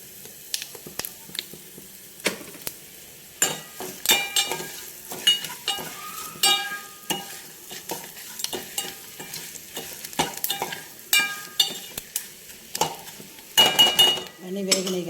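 Whole spices frying in oil with asafoetida for vaakkaya rasam, a sizzle under quick metal clinks and scrapes of a spoon against the pan, close and irregular.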